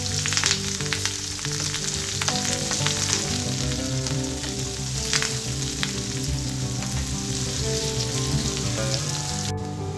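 Curry leaves, green and dried red chillies, mustard seeds and onion pieces frying in hot oil, a loud, dense, unbroken sizzle and crackle held close for the whole stretch without any voice.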